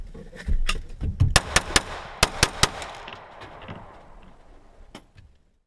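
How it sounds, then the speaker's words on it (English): Handgun live fire after a draw from an appendix holster: a loud, close string of about eight sharp shots in two quick groups, with some clatter before them and one more shot near the end. "All right, let's try it live fire."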